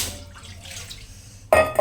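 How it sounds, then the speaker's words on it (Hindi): Cauliflower drops into a pot of water in a kitchen, making one sudden close splash near the end after a quiet stretch of faint water movement. "इस गोभी को हम थोड़ा सा पानी में डाल के हम"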